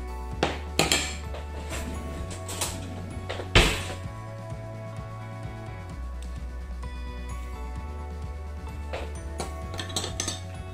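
Headache salve made with essential oils being spooned into small pots, heard as scattered metallic clinks and taps of a spoon against containers, several sharper knocks standing out over a low steady hum.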